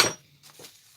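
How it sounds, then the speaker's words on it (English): A metal fret file dropped during fretwork hits the floor with one sharp clink, followed by a faint short rattle and then quiet. "Uh-oh, we just dropped a file."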